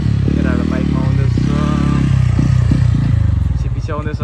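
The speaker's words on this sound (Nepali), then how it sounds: "गएको घरबाट निस्किएको केटाहरू बाइकमा आउँदैछ" An approaching motorbike produces a loud, steady mid-pitched engine drone that rises and dips slightly, with voices talking over it.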